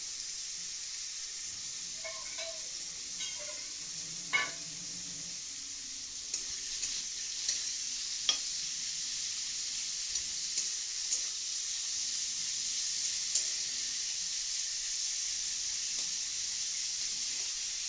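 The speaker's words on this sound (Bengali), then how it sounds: "এবারে চিকেনটাকে ফ্রাই করে নেওয়া হচ্ছে" Chicken fries in a kadai for home-made fried rice, a steady broadband sizzle running throughout with occasional soft scrapes and taps of a spatula stirring the pieces.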